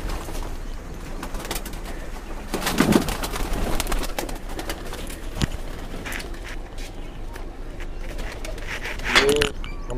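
Pigeons in a loft coo softly now and then amid rustling and fluttering, with a few scattered clicks and shuffles nearby.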